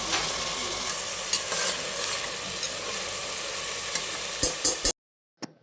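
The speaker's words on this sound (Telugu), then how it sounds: "కరిగిన ఉల్లిపాయ పచ్చిమిర్చిని నూనెలో వేసాము ఇవి ఫ్రై అయిన తర్వాత అల్లం వెల్లుల్లి పేస్ట్ వేస్తామన్నమాట" Onions and green chillies fry in oil with a dense, steady sizzle and occasional spatula scrapes, up close, before the sound cuts off abruptly near the end.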